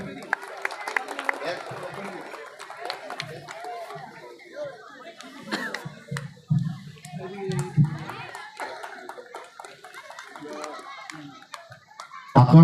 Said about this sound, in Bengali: সকলে মিলে একটু করতালি হয়ে যান।